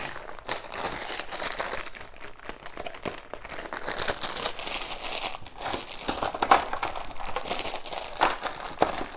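Plastic dice for a tabletop board game dropped and packed into a crinkly bag, with steady close crumpling and rustling of the plastic punctuated by small clicks and knocks throughout, no talking.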